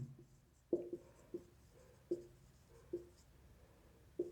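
Pen strokes on paper during a soil mechanics lecture, a series of soft, separate scratchy taps spaced about a second apart over a quiet room.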